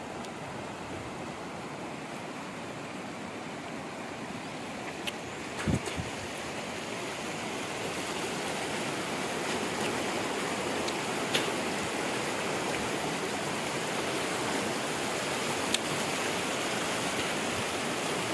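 Steady rushing water of a river in the Mayar area near Mudumalai forest fills the whole stretch, a broad continuous roar like a fast river or cascade nearby, with a few faint clicks and no voices.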